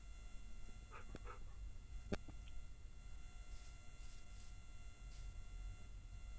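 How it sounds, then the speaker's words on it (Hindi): Faint dog sounds from the video game Minecraft come through as a few soft, brief barks and whimpering yips spread over several seconds, low in level against a quiet game background hum. "तो गाइस ये कुत्ता हमारे घर पर आ चुका है"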